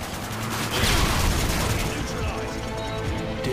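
Shotgun blasts in a Call of Duty: Modern Warfare 2 team deathmatch on the Wasteland map, heavy overlapping gunfire bursts layered with game effects and voices.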